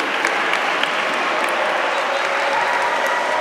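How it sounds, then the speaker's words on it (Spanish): Sustained applause from an audience filling a library hall, dense and steady throughout at a fairly loud level, with a few sharper claps standing out. "Os agradezco mucho los aplausos"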